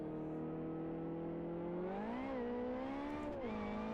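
A classic Mini Cup race car engine in Live for Speed drones steadily, then revs up, dips and climbs again through gear changes, loud and continuous with no talk.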